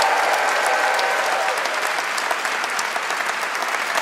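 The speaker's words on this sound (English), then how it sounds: "could we please have one more round of applause for all our guests tonight?" A live audience claps steadily in dense, sustained applause that fills the space evenly, with no pauses.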